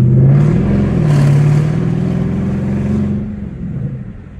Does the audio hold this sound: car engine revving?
yes